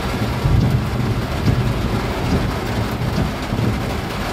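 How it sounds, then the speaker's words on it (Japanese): A sudden torrential downpour with hail over a road in Hanyu and Gyoda, Saitama Prefecture, Japan, makes a dense, loud, unbroken roar of water pounding and splashing on the surface, with no pauses. "はい、非常に強い雨が降っております。"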